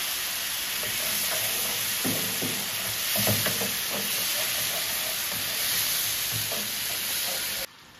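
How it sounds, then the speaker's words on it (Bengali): Spice paste with sugar fries and is stirred in a pan as splashes of water go in, a loud continuous hiss with soft stirring knocks throughout before it abruptly cuts off near the end. "এবারে অল্প অল্প জল দিয়ে মশলাটাকে কষাবো"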